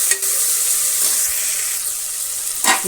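Fennel seeds hit hot oil in a pan for a potato and carrot rice bath, sizzling and frying in a steady, close hiss, with stirring throughout and a brief louder burst near the end.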